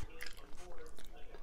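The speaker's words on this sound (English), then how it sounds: "Just when you think it's all soft, you turn it around and there's crunch." Crunchy flapjack being bitten and chewed up close, a few crisp crunches and moist chewing sounds in a short, fairly quiet burst.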